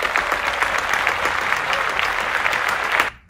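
Continuous clapping from an audience, a bright, busy patter of many hands at a steady level that cuts off abruptly near the end, with no talking over it.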